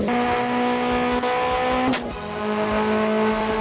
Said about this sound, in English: I do like the exhaust of the car.